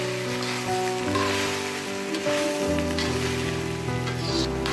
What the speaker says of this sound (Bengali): এবার এর মধ্যে চালটা দিয়ে দিলাম, চালটা দিয়ে একটু ভেজে নিচ্ছি।